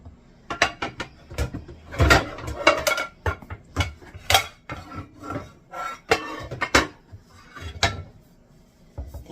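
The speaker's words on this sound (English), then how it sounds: "let's get out a frying pan." Pots and pans clank and rattle in a kitchen as a frying pan is pulled out, a series of irregular close metallic knocks and scrapes with short pauses between them.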